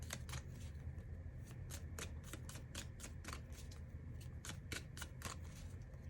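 Tarot cards are shuffled in quick riffling bursts, close and fairly quiet, repeating steadily with no voices.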